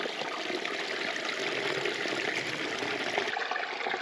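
Water squeezed from an upturned soft pouch by a backcountry camper on a bear hunting trip, trickling and splashing steadily and close for several seconds, with no talk.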